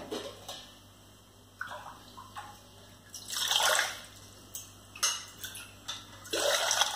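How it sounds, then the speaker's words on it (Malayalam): Water poured from a glass into a pressure cooker set on a stove, heard as several short close splashing bursts separated by quiet pauses, the longer pours rushing more fully. "രണ്ട് ഗ്ലാസ് വെള്ളം ഒഴിച്ചു കൊടുത്തു."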